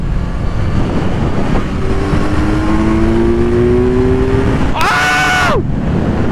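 A Kawasaki Z900 motorcycle engine roars and revs hard while accelerating, with rising pitch sweeps and a brief high-pitched burst near the end, under excited shouting.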